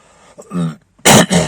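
Two short, harsh coughs or throat-clearing bursts close up, the second louder and sharper, separated by a brief silence.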